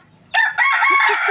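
A rooster crows once, loud and close, a single drawn-out call with no other sounds around it.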